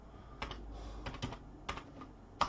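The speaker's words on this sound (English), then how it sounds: "So in there we can type in" Keys clatter on a computer keyboard in a short burst of typing, several quick, close taps in an irregular rhythm against a quiet background.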